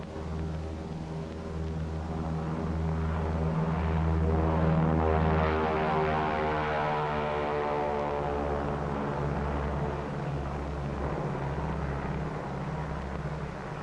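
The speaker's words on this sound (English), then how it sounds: "the B-29 Dave's Dream, bomb-carrying aircraft" The B-29 bomber Dave's Dream drones on its propeller engines, a loud, sustained multi-engine hum with steady harmonic tones that swells slightly in the middle.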